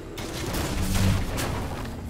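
A dense, sustained burst of explosive crackling rumbles through a League of Legends match as a barrel combo detonates, loud and continuous with several sharper pops inside it.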